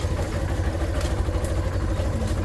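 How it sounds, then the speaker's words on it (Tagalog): A motorcycle idles on a small home farm, a steady low throbbing rumble with faint clatter that runs unbroken and fairly close, with no talk. "Iwan natin yung motor natin dito."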